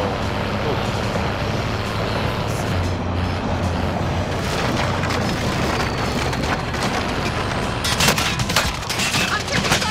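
Video game gunfire crackles in dense, continuous bursts over a rumbling battle background, with sharper volleys near the end.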